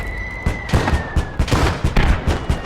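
Tank cannon fire in a World War II video game battle with a Panzer III, heard as a rapid run of heavy booms and thuds, loud and close, with a steady tone in the first half.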